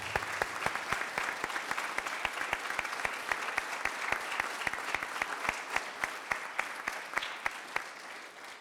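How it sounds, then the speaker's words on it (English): An audience applauds new Special Constables at a police attestation ceremony in Greater Manchester, a steady, dense wash of many hands clapping at moderate distance, sustained throughout without any voices over it. "shall we give our new Special Constables another round of applause?"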